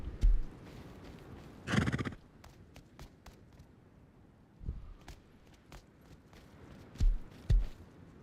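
A horse in the video game Rust gives one clear whinny amid scattered hoof clops and footfalls, fairly close, with the neigh standing out briefly against quiet game ambience.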